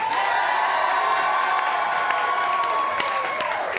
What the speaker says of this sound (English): Clap loudest for the one you want to see go through to the final act here